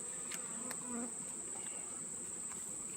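Honeybees buzz steadily around an open beehive stocked with honey, a dense close insect drone holding throughout with no talking over it.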